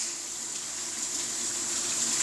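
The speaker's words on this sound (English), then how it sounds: "I'm gonna wash my hands real quick because, you know, germs." Steady broadband rush of tap water running over hands being washed at a kitchen sink, close and continuous with no talk.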